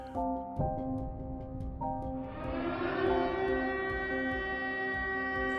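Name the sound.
air raid siren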